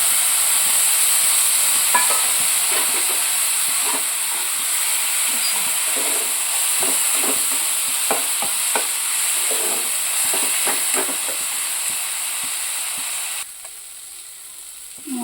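A steady, loud sizzle of spices sautéing in a pan for Bengali fish curry, with scattered stirring scrapes throughout and the hiss dropping off near the end.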